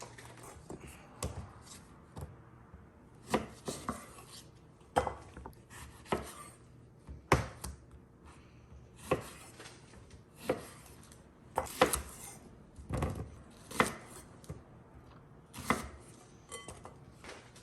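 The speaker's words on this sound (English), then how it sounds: "we're gonna start by rough chopping up our fruits, our onion, and our garlic" A knife thuds repeatedly on a cutting board in an uneven rhythm, close and crisp, with quiet gaps between bursts of rough chopping of fruit, onion and garlic.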